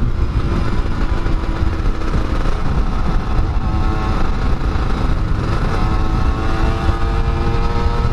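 A 2002 Yamaha F1ZR motorcycle engine runs steadily in third gear while riding, a loud, continuous mid-pitched drone with a constant buzzing rumble and no speech.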